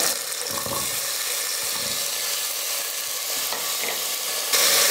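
Small peeled potato pieces going into a pot for sambar rice, with continuous loud sizzling and stirring throughout and no talking.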